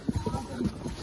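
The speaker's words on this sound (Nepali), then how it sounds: "घोडाहरू पनि रहेछ" Horse hooves clopping on the ground in Ghandruk village, Nepal: a few quick, close hoof strikes in a short burst, with a voice murmuring in the background.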